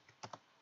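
Keys on a computer keyboard clatter faintly as a git command is typed, a few quick separate taps spread unevenly with a sharper final keystroke.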